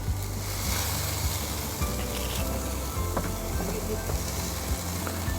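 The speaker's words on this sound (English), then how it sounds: "You hear that sizzle?" Chicken sizzles on a charcoal hibachi grill, a steady close hiss and crackle of cooking yakitori that carries on throughout with small pops and clinks over it.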